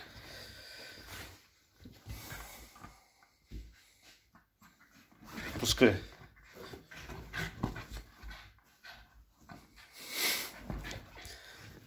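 A small dog pants and growls while tugging at a cloth hand towel, quick breathy panting in bursts close to the mic, with a voice speaking now and then.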